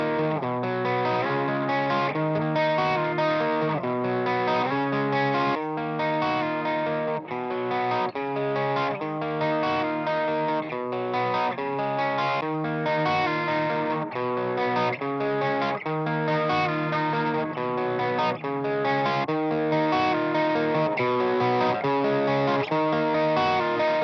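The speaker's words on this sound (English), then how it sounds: "I'm going to put the Boss OD200 on. I'm going to get some like crunchy tones" An electric guitar played through a Boss OD200 overdrive pedal gives a crunchy, distorted tone, with chords and riffs running continuously at a steady level for over twenty seconds, no voices.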